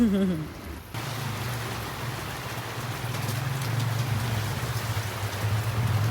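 Steady rain falls in cold weather as a continuous broadband hiss at even loudness, with a low hum beneath it and a brief tonal sound at the very start.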